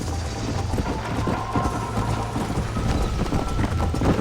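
In the Red Dead Redemption video game, a horse gallops at full speed, its hooves thudding in a quick, unbroken rhythm under a faint, steady background hum, with no speech.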